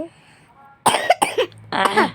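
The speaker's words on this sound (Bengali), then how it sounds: "শোনো আমার কাশি হয়ে গেছে" A toddler around two years old coughs in a short burst of several rough, close coughs after a brief quiet moment.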